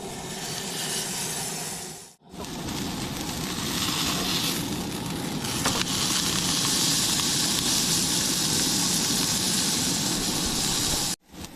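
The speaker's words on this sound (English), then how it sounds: "So on a hot skillet, we're gonna toss this bad boy in." A stuffed burger patty sizzles on a hot skillet in a loud, continuous hiss up close, with two short dips where the sound briefly cuts out.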